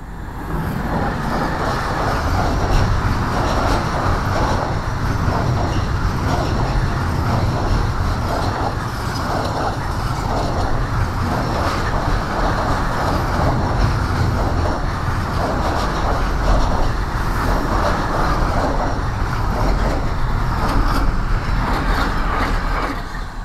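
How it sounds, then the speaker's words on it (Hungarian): A freight train passes along railway line 20 in Hungary with a loud, continuous rumble and a steady rhythmic clatter of wagons that holds close by for the whole stretch. "És jön egy tehervonat, és ezt fogom nektek most lefilmezni."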